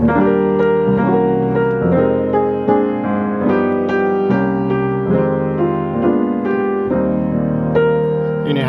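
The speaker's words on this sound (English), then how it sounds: "now I'm going to play it in a jazz manner using the 1-6-2-5 progression." Jazz piano renders a song melody over a 1-6-2-5 chord progression with wide spread voicings, full rich chords struck in a relaxed swinging pulse, close and sustained, without any voices.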